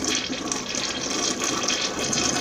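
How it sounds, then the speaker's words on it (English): A household toilet flushes in one continuous rushing, gurgling stream of water at close range, steady throughout with no talk. "Full flush."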